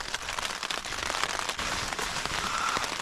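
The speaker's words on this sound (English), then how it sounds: "Cold rain like this is the worst." Cold rain near freezing falls steadily at a campsite, a dense, even hiss of drops pattering on surfaces with no break for the full stretch, and no voices.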